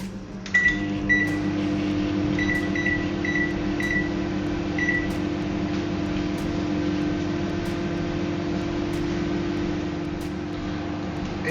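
A running microwave oven steaming a baby's feeding bottle hums steadily at close range, with a faint rhythmic ticking early on before the drone continues alone, and no voices.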